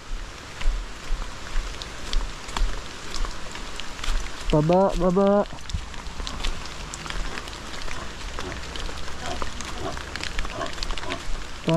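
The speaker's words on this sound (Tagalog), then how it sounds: "Kung kailan malapit na uli, bumulusok na naman ang ulan." Steady rain patters on surfaces throughout, a constant wash of noise, with a brief voice and occasional bumps and movement nearby.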